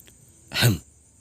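A single short throat clearing, a brief rough vocal burst that rises and fades within half a second, close and otherwise quiet.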